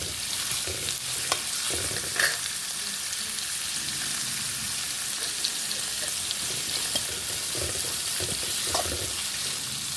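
Onions for a potato samosa filling fry in a pan, giving a constant close sizzle. Scraping stirs and small clinks of the spoon against the pan come through on top, with no talking.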